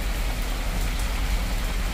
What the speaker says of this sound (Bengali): প্রচণ্ড জোরে বৃষ্টিও শুরু হয়ে গেছে।